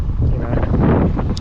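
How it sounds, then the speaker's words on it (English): Strong gusting wind buffets a microphone outdoors at a boat ramp, a steady loud broadband roar with rumbling low end throughout, and a faint voice may sit beneath it. "It's probably starting to gust 25-30 knots now"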